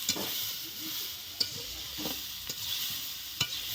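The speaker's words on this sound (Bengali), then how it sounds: "এবারে মটরশুঁটি দিলাম," Green peas frying in a pan give a steady, bright hiss, broken every second or so by sharp clicks and scrapes of a stirring spoon, close up and with no voices.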